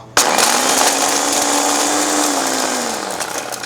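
A blender starts abruptly and whirs loudly, grinding crisp dried ingredients into fine powder for a noodle broth seasoning, steadily for a few seconds as its motor pitch slowly sinks, with no one talking.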